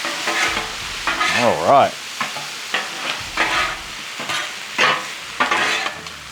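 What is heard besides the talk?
stirring sausage and potatoes frying in a pan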